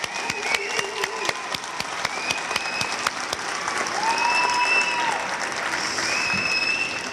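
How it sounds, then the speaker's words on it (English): An audience claps steadily in a hall, celebrating Olympic bobsledder Elana Meyers. The loud applause runs the full length, with scattered whistles and cheers rising over it toward the end. "I think that deserves a round of applause"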